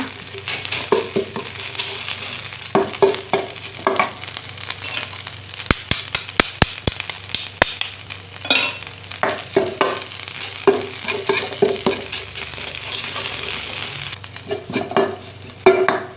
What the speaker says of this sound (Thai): ผัดกะปิให้หอมก่อน